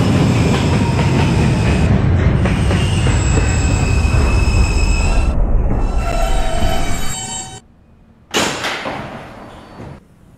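Loud, continuous running noise from an R160B Alstom subway train in the Roblox game rolls on for about seven seconds, then drops off sharply, with a brief burst of sound near the end.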